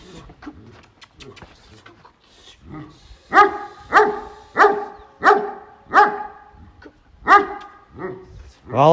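A dog barks repeatedly on a horse farm, a run of about eight loud, evenly spaced barks near the microphone, with people talking before them.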